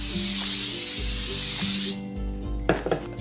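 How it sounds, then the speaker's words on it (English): Cooking oil spray hisses steadily onto a baking pan for about two seconds, then stops, followed by a few light metallic taps and clinks nearby. "Now I'm spraying the baking pan."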